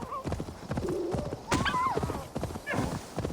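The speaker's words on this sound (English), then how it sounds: "Just kicked a horse." A horse in the Assassin's Creed Valhalla video game neighs and whinnies with rising, wavering calls, alongside steady clip-clop hoofbeats and some game ambience, loud and close throughout.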